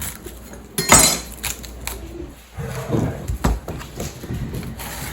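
A serrated knife cuts the core from a halved homegrown cabbage on a board, producing crunchy sawing and cracking sounds with a few sharp knocks and clinks, close and uneven.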